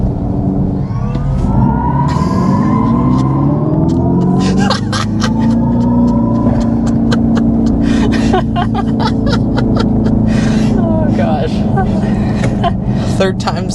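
A 2025 electric Dodge Charger Daytona Scat Pack with 670 hp accelerates hard, its rising motor whine climbing steadily in pitch, loud and close, under excited talk and laughter inside the cabin.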